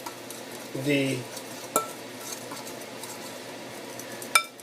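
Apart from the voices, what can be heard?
stirring wet batter for chile rellenos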